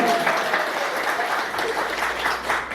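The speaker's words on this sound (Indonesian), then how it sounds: "Ayo kita kasih aplaus untuk Bapak Sofiantan walaupun Bapak itu tidak ada di sini" Sustained applause from an audience at a gathering at a private elementary school in Belawan, steady clapping filling the whole stretch at moderate loudness, with no voices over it.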